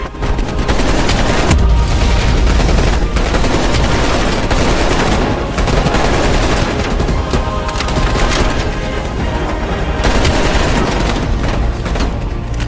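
Sustained heavy gunfire from a helicopter escape in Call of Duty: Black Ops Cold War, with dense rapid bursts, cracks and booms pounding continuously at close range, with no talking.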